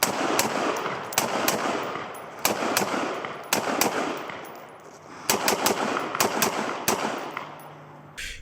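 A Windham Weaponry WW-15 rifle fires rapidly in close, loud volleys of sharp cracks, with short pauses between strings of shots and no talking.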